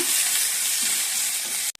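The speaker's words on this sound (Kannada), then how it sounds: "ಇವಾಗ ನೀಟಾಗಿ ಚೆನ್ನಾಗಿ ಫ್ರೈ ಮಾಡ್ಕೊಳ್ಳೋಣ" Green chilli, garlic, curry leaves and onion tempering frying in a pan, a loud steady sizzle with hissing crackle throughout, cutting off abruptly at the end.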